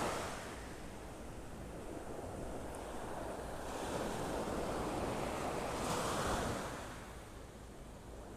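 Ocean surf rolls onto a beach in North Naples, Florida, a steady broadband wash of waves with wind noise on the microphone, swelling a little louder in the middle before easing off.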